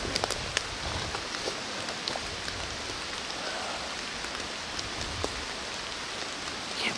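Steady rain falls in a Pennsylvania woodland during deer season, a dense even hiss with scattered sharp drips and taps on nearby surfaces, no voices.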